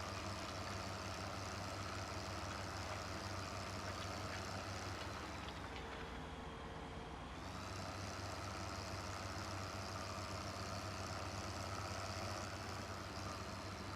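A tractor engine in Farming Simulator 15 runs continuously with a steady droning rumble. Its pitch shifts and dips briefly midway, as if easing off the throttle while turning, and no talk is heard.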